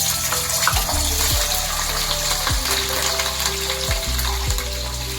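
Green chillies frying in hot oil in a pan, giving a loud, steady crackling sizzle with brief stirring scrapes and low clunks, and no voices.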